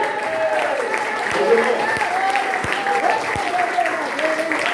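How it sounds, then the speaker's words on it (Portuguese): A church congregation applauds during a teaching service, with a steady wash of clapping lasting several seconds while a voice or music carries on over it. "Vamos dar uma salva de palmas ao Senhor."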